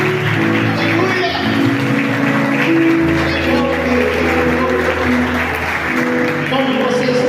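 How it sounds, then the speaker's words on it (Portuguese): A church congregation gives a round of applause during a worship service, steady broadband clapping that continues throughout, mixed with voices and music-like tones, loud and close. "mais uma linda salva de palmas"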